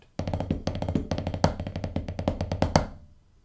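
Snare drum playing the Stolen solo from Drumline at a slow tempo, crisp rapid strokes in clustered rhythmic groups with accented hits, close and clear, ending with a short ringing decay.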